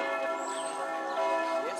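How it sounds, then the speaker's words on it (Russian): Church bells ring at Nuremberg Castle, sustained and ringing with rich overtones, heard from a high viewpoint over the city with faint ambient sound around them. "И колокола."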